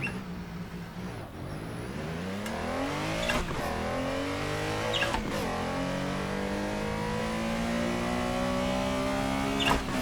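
A Porsche 911 Carrera RSR 3.0 in the Assetto Corsa racing game accelerates hard, its engine note climbing through several gears with sharp shift breaks, loud and close and heard alone.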